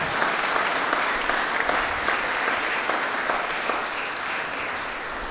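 Churchgoers at a confirmation service in St. Thomas Church, Sandor, clap for Archbishop Felix Machado in a sustained, even round of applause that tapers slightly toward the end.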